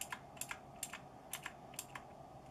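Keys clack on a Motospeed CK61 60% mechanical keyboard with backlighting, a close, quiet sequence of crisp individual strokes in loose bursts, with no talking.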